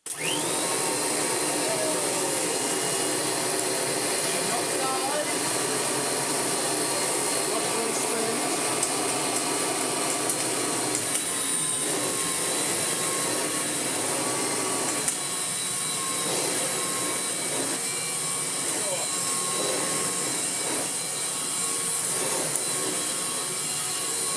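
A restored 1981 Kirby Heritage Turbo upright vacuum cleaner runs continuously, a steady loud motor whine and airflow roar with a few faint clicks and knocks.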